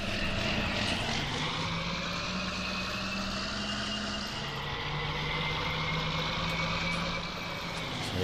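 Engine drone of a John Deere 40 Series tractor in Farming Simulator 19, a steady loud hum with a shift in pitch midway as the gear changes, running continuously without talk.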